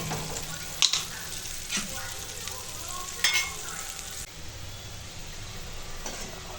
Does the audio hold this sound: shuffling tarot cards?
no